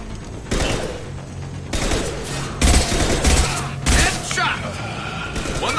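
Gunfire from the video game Mass Effect 2 comes in several loud bursts of rapid shots with booming impacts, mixed with game noise and some talk.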